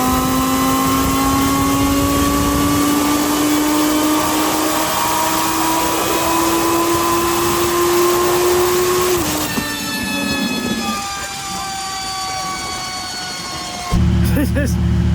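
A twin-turbo Lamborghini Huracan Performante on a dyno, running its lowest boost map at about 1,100 horsepower, roars loud and close with a steadily climbing engine note for about nine seconds. It then drops off into rushing air and a brief low burst.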